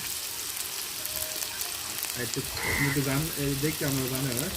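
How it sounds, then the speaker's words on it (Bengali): Potato pieces sizzling as they fry in hot oil in a home kitchen, a steady crackling hiss throughout, with a voice speaking over the later part. "তেল গরম হয়ে গেছে, দিয়ে দেব আলু।"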